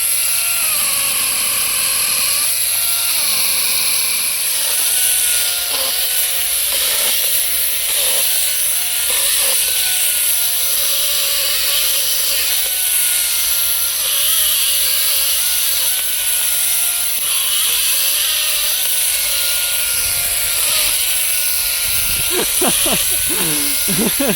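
A GTM CS18/127BL cordless chainsaw cuts with a loud, continuous high motor whine and chain buzz that wavers as it works through the material. A person talks over the saw.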